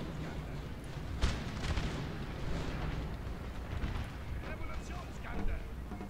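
Musket volleys crack in Napoleon: Total War as line infantry open fire, a spread of distant, layered shots and booms rolling under someone talking throughout.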